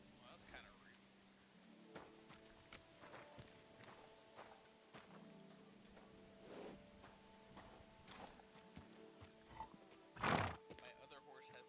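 Horse neighing and hoof clip-clops in the medieval game Kingdom Come: Deliverance II at a stable, with steady footsteps throughout and a loud whinny near the end, partly under talk.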